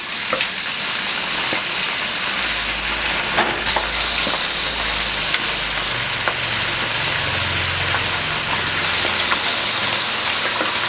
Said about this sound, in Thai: อาจจะมีเสียงฝนลงสังกะสีนิดนึงนะครับพอดีบ้านหลังคาเป็น สังกะสีแล้วตอนนี้ฝนมันตกเบา ๆ อยู่